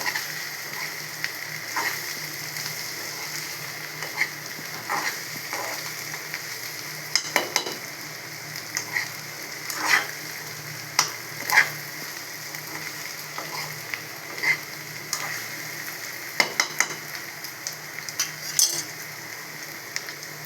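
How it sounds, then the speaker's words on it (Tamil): Taro root slices fry in hot oil with a continuous soft sizzle, broken by occasional sharp scrapes and clinks of a utensil stirring the pan nearby; no voices. "நல்லா கிறிஸ்பியாக வறந்துட்டு நல்லா பரட்டி விட்டுக்கிடலாம்."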